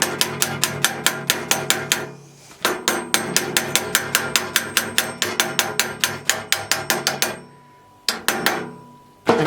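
A hammer taps a bolt home through a bike's rear suspension mount in quick, sharp, evenly spaced metallic strikes, loud and close, in two long runs with short pauses and a final burst.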